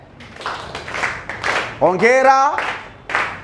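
A classroom of students claps together in a few quick bursts, loud and close, amid a teacher's speech and a short spoken cheer.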